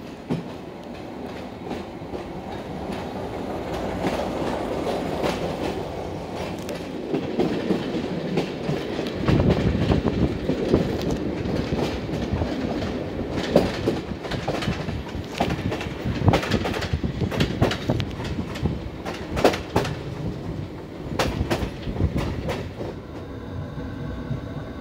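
A diesel train pulling out of Oradea, Romania, on a cross-border run, its wheels beating a steady clickety-clack on the rails under a continuous engine rumble, with birds chirping faintly in the background.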